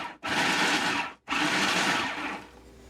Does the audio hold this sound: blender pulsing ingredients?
yes